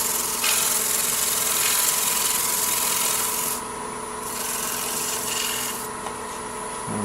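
Sandpaper backed by a thinned popsicle stick rubs against a wooden stacked bowl, making a steady close raspy hiss that holds for several seconds, eases briefly, then continues.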